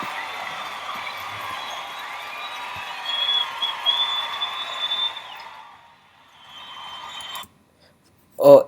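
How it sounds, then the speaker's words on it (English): An arena crowd cheer effect: a dense, steady roar of a large cheering crowd that swells midway, then fades out, followed by silence and a short sharp burst at the very end. "I used a iMovie sound effect called Arena Crowd Cheer"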